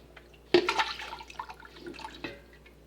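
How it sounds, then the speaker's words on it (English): A titanium dioxide and water mixture is stirred, then poured into cold process lilac soap batter, giving a sudden wet splash and a liquid swirl with a few softer sloshes after. "I'm going to give this a quick stir and pour it in."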